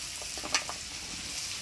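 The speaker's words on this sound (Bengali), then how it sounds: "এবারে দিয়ে দিচ্ছি লঙ্কা পেঁয়াজ।" Chilli and onion hitting a pan of frying potatoes, a brief steady sizzle with a quick clatter of pieces dropping in, close and moderately loud.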